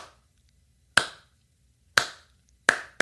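A lone person slowly claps four times close by, the first three spaced about a second apart and the last following sooner, each crisp and loud against silence, mimicking a slow clap.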